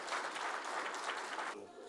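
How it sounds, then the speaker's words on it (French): Applause rises in a meeting room after a speaker at a lectern, a dense, moderately quiet wash of many clapping hands that cuts off abruptly near the end. "arrachant parfois quelques applaudissements"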